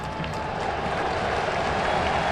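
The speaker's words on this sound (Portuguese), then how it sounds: "O torcedor aplaude a ação ofensiva do Grêmio" Football stadium crowd at a Grêmio versus Flamengo match applauding an attacking move, a steady, dense wash of clapping and cheering that fills the whole stretch at even loudness.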